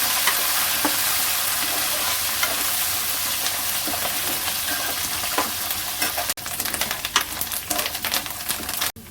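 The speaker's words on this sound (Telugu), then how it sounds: "ఉల్లిపాయ చిన్నది కరివేపాకు వేస్తున్నాను" A small amount of onion and curry leaves frying in a pan for bread semiya upma gives a loud, dense, continuous sizzle with scattered crackles and a brief break near the end.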